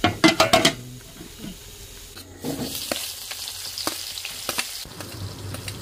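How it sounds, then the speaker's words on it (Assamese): Onions dropping into hot oil in a kadai for Assamese posola frying, a loud crackling sizzle after a few sharp clatters at the start, then a steady fry with stirring clinks, no voices. "পছলা ভাজিবৰ কাৰণে প্ৰথমতে গৰম তেলত এয়া পিয়াজখিনি দি ল'লে"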